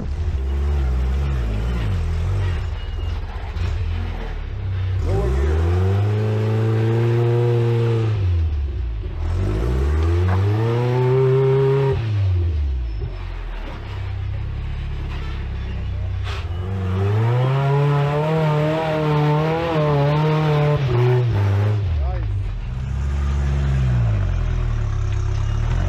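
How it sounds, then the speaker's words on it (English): An off-road Jeep running a Toyota 22R motor revs hard in repeated long swells that rise and fall over a rough idle, loud and close, with people talking now and then beneath the engine. "What motor is in this? Oh, 22R."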